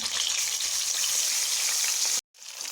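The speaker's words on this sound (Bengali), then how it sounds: "মাছগুলা ভেজে নেব" Pieces of foli fish fry in hot oil, giving a steady, soft, bright sizzle that holds continuously before a brief silent gap and then resumes, with no one speaking.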